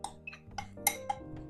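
A spoon scrapes the last bits from a bowl in a home kitchen, giving a few light, irregular clinks and scrapes, quiet and close.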